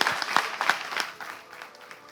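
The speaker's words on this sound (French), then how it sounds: "Vous pouvez applaudir hein, pour l'encourager." A studio audience on a television show claps in a short burst, lively at first, then thinning and fading within about two seconds.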